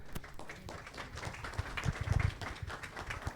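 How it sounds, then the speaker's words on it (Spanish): Applause from an audience at a panel discussion on sample-collection processes, a dense crackle of many hands with sharper individual claps poking through, moderately loud and steady throughout. "para quien pido un aplauso"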